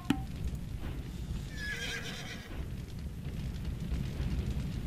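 Horses in the video game Age of Empires II HD: The Forgotten give a clear whinny over dense, steady battle and game background noise, with hoof clip-clop mixed in.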